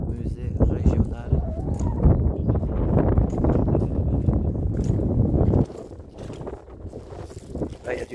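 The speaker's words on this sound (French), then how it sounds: "Là, il y a du vent." Strong wind buffets the microphone outdoors at the seafront in Fouras, a loud continuous rumbling roar that drops to a lighter gusting after several seconds, with a voice speaking over it.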